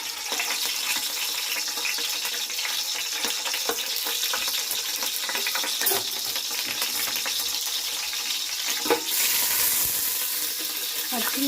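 Green chillies sizzle and crackle in hot oil in a pan for khichidi, a steady bright frying hiss with scattered pops close by, continuing without a break.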